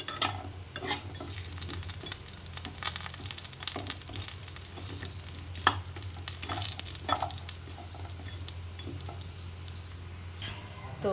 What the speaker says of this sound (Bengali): প্রথমে আমি বড়িটাকে ভেজে নামিয়ে নেব